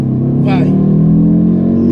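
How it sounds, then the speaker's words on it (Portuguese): An Audi five-cylinder turbo engine holds a steady, deep, close-up drone at high revs for a couple of seconds, briefly overlapped by a voice. "esse ronco 5 cilindros turbo, para mim, é o ronco mais Audi que existe"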